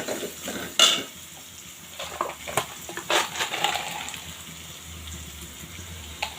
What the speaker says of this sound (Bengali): এই তো পেঁয়াজ বেস্তা ভেজে নিচ্ছি, আমি সুন্দর করে ভেজে নিচ্ছি